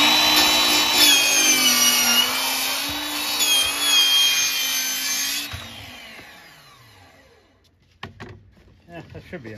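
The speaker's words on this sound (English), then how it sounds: "I'm gonna try to cut it on this miter box and see if we can make it." A hand saw cuts a strip from half inch plywood in a miter box during an arcade cabinet restoration, the close, steady rasping strokes running for several seconds before stopping, followed by a few knocks and handling sounds.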